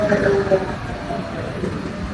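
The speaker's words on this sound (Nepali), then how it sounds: "मेरो पछाडि मेट्रो आइरहेको देख्नु भएको छ" A metro train pulls into a station in Spain, a steady low rumble of rolling carriages with brief brake squeals near the start, heard close by with a little background talk.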